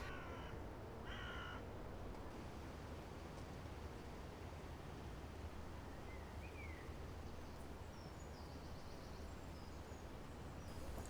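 Magpies call out over a steady background hiss near an allotment orchard. Harsh chattering bursts come early, with fainter scattered calls later, all some distance away and without any talk.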